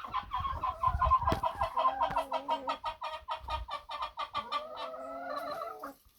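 A hen clucks repeatedly in a steady run of short calls, fairly close, with some soft background rustling and no talking.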